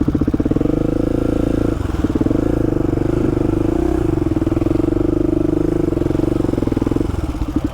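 A Polaris RZR XP Turbo side-by-side drives through a muddy patch of trail, its engine a loud, steady droning hum that dips briefly twice as the throttle eases.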